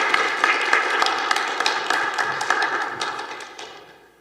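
A church congregation at a Sunday worship service claps together to welcome a missionary, a dense steady patter of many hands in a large room that thins and fades toward the end.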